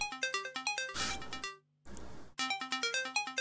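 A phone ringtone chirps in a horror video game, fast repeating electronic tone bursts that break off briefly for a pause with a short noisy blip, then resume, loud and clear with no talking.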